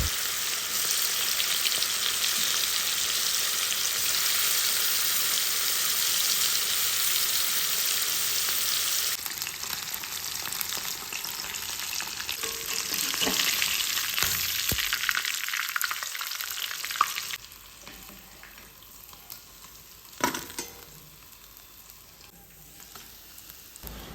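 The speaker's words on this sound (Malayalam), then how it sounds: "വെളിച്ചെണ്ണ ഇല്ലാത്തതുകൊണ്ട് ഞാൻ ഓയിലിലാണ് ചിക്കൻ ഫ്രൈ ചെയ്തത്." Marinated chicken frying in oil, a loud dense sizzle that drops in level partway through, then quieter crackling with occasional stirring clicks and no talking.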